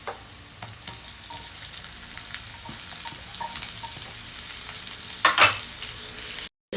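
Garlic and onion fry in hot oil in a pan, giving a steady close sizzle with occasional stirring scrapes and a brief louder burst near the end.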